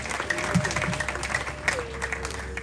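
Wedding guests applaud in a short burst of clapping from a crowd, with a voice carrying over it and the clapping fading into the background.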